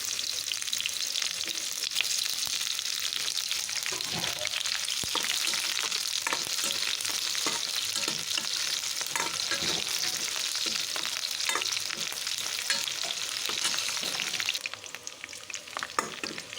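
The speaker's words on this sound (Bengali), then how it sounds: "পেঁয়াজটা একেবারে লাল লাল করে ভাজা হয়ে গেছে।" Chopped onion frying in oil in a wok on an induction hob, a steady loud sizzle running throughout with occasional stirring scrapes, and the hiss easing slightly near the end.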